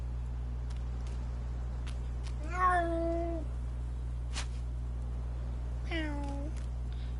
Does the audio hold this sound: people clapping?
no